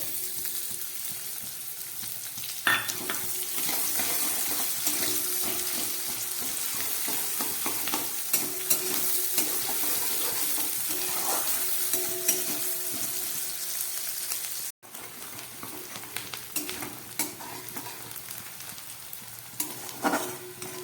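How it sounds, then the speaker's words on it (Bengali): Chopped onions frying in a pan over medium heat, a continuous close sizzle with repeated scraping stirs and clinks, briefly cutting out once before resuming, with no talk. "এবার আমি দিয়ে দিচ্ছি কেটে রাখা পেঁয়াজ।"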